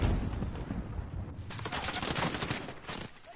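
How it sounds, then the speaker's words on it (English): Gunfire during a Call of Duty Warzone match, a busy stretch of shots and bursts that hold steady for a few seconds, heard close and fairly loud with no talk over it. "You're getting sniped."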